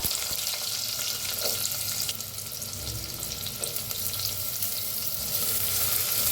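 Onion frying in hot oil with mustard seeds, cumin and asafoetida in a clay pot, a continuous loud crackling sizzle up close with a few soft stirring knocks and no voices.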